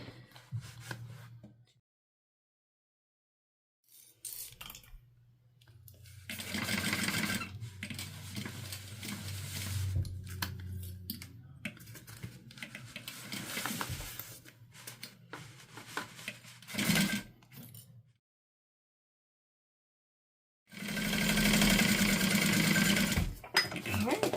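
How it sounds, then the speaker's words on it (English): A domestic sewing machine runs in bursts along a quarter-inch seam with backstitching at the start and end, the motor whirring in several separate runs broken by pauses and quiet talk. "I'm going to go down sewing at a 1/4 inch, back stitching at the beginning and the end"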